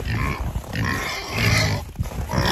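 Pigs grunt and snort close by in a steady run of low, rough grunts, with no talking.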